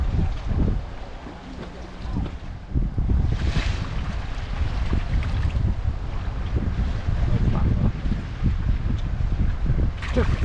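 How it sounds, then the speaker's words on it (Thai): Strong wind buffets the microphone over churning, rough water, a steady loud rush with occasional gusts and splashes throughout. "ลมแรงน้ำก็แรง"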